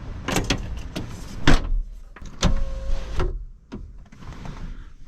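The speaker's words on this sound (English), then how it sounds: "Close the door." Door of a BMW E46 M3 being worked and shut, with a series of sharp thuds, clicks and rattles of the door panel and latch, close by, spread unevenly across a few seconds.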